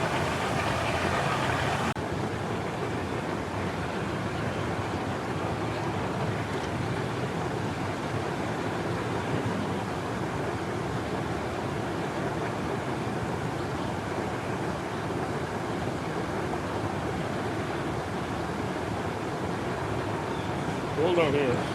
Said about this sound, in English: feels good to be in the jacuzzi